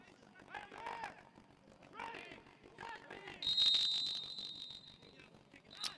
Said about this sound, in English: And a whistle here as Colleen Jean holds it up now for Daytona